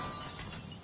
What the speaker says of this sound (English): That sounded like broken glass.